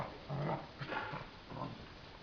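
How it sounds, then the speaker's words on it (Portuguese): A dog, egged on to play-fight, makes a few faint, soft whimpers and low growly yips in a quiet room, with no one talking during these seconds. "Cachorro, cachorro chato."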